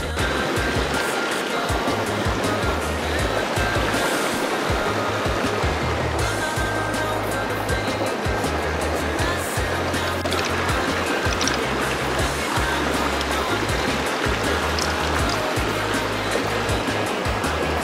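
A mountain river in Cherokee, North Carolina, running at moderate height during fly fishing: a continuous, close rush of water with broadband hiss and low churning, steady throughout without speech.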